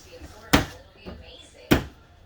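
A cabinet in a 2021 Keystone Raptor 429 RV being worked, with two distinct sharp knocks of the door about a second apart and a softer bump between them, close by and under light background noise.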